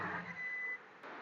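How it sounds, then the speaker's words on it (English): Hydraulic dump bed being raised on a household garbage truck with the engine running, a steady whirring hum with a faint high tone that cuts off partway through, alone and close. "Going to go ahead and raise the dump bed for us."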